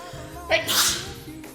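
A single sharp sneeze bursts out in the middle of a live cooking stream of beef and red wine stew, brief and close, with a voice murmuring around it.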